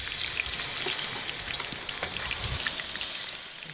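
Battered jujube-wrapped barley deep-frying in hot oil, a steady, dense sizzle and crackle heard up close with no talk over it.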